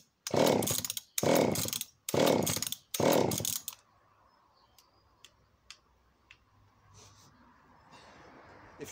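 An Echo CS-451VL professional chainsaw gets four loud, close pull-starts in quick succession. Each is a short rasping burst, followed by quiet faint ticks and handling clicks.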